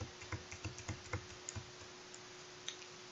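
Computer keyboard keys tapped while drafting in Kaledo fashion design software, a run of quiet, evenly spaced clicks followed by a few sparse taps, faint and close with no talk.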